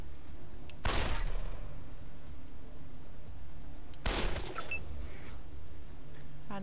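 Two sharp, loud gunshot blasts ring out several seconds apart in a video game of mutants, anarchists and bandits, each with a short ringing tail over a low, steady background.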